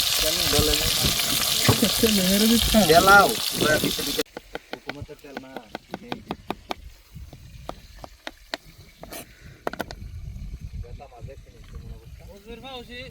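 Chicken cooks in a pan outdoors on a sea beach in Doha, Qatar, with a loud, windy sizzle at first, then quieter crackling and tapping clicks, while a person talks over it.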